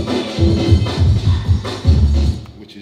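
A hip hop record sped up on Technics 1210 turntables with faders into jungle, giving fast, dense breakbeat drums over thick bass, loud and driving, with no talk.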